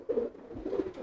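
A pigeon kept for sale at a home gives soft, close, repeated throaty coos in a short rolling burst, with no talking over it.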